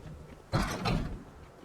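A shop door closes in Project Zomboid: one short, fairly loud thump and rattle that trails off quickly against a low background.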